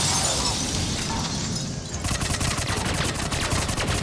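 Rapid-fire Tempest weapon shooting in Mass Effect 3, a dense continuous burst of fast stuttering shots that tightens into a crisp rattling rhythm partway through, loud throughout.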